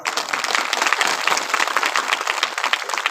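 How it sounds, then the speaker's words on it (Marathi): A crowd in a Marathi devotional gathering about Chakradhar Swami bursts into steady, dense applause, many hands clapping together at an even level throughout with no break. "एकदा जोरदार टाळ्या वाजवा"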